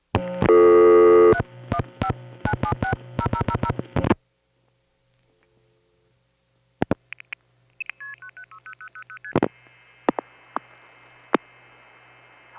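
A 1970s long-distance call from New York City to Syracuse in the 315 area is dialed with a rapid burst of loud touch-tone beeps, followed after a pause by network switching tones, chirps and a sequence of melodic signalling tones.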